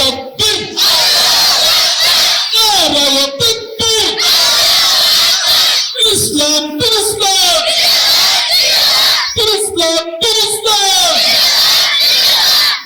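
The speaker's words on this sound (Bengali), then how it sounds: "চলো সবাই মিলে একই সুরে দাও না স্লোগান" At a Bangla waz religious gathering, a large crowd chants slogans loudly in unison, its repeated phrases coming in strong rhythmic bursts with brief gaps between them.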